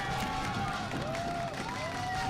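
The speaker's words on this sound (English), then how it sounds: "You hear the crowd out there." Crowd noise from spectators at a women's football gold medal match between Brazil and South Korea, a steady distant roar with a whistle-like tone rising and falling above it.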